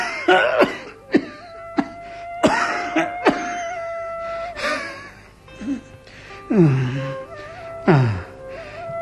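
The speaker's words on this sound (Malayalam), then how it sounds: "ഞാനിങ്ങനെ ചുമച്ചും കിതച്ചും കിടക്കുന്നു" Repeated coughing fits and wheezy, strained breaths from a sick man in a Malayalam radio drama, harsh bursts spaced out over several seconds.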